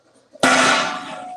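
A recorded firework sound played back for dog desensitizing training: a sudden sharp bang after a short quiet lead-in, followed by a bright ringing decay that fades slowly.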